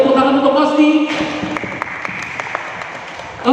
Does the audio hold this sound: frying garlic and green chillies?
no